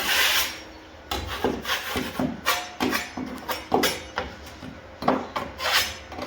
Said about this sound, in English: the next step is just to scrape anything back so we don't get anything in our mix, and any high bits like this